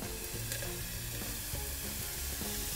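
Popcorn kernels heating in a pan at home, with a steady close sizzle of frying and scattered soft pops and stirring noises throughout, no talking.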